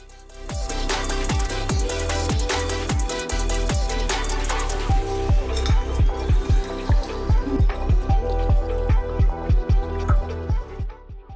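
Water running and dripping in a home kitchen as it is prepared for heating before breakfast, a steady pour followed by a rhythmic series of splashing drips, close and fairly loud.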